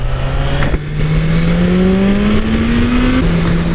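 A BMW S1000RR sport motorcycle is ridden, its engine note droning and rising steadily in pitch under acceleration with a brief dip, loud and close amid wind and road noise.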